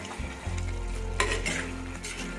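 Pepper chicken masala frying in a pan, a loud close sizzle with a spatula stirring and scraping through it and a sharp clack near the middle.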